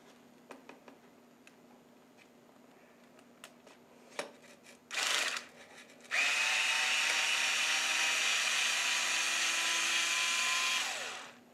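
A power driver unscrews the shock bolts on a Team Associated B6 RC buggy: a short whir, then one long steady buzz of several seconds that cuts off, with faint ticks and handling noises before it and no talk.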